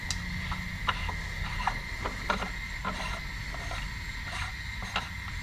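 A bolt is threaded into a clutch removal tool on a Can-Am Maverick Trail 1000 side-by-side. It gives repeated metallic ratcheting clicks at a steady pace, close by, with no talk.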